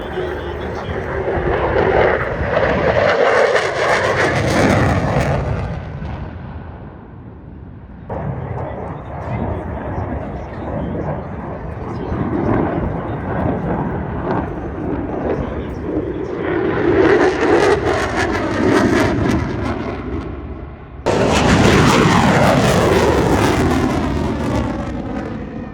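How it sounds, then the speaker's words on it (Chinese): A WWII Spitfire fighter plane flies over the Avalon Airshow, its loud broadband engine roar swelling and fading in long passes, with a sharp surge near the end; voices talk over parts of it. "它是2战的战斗机。"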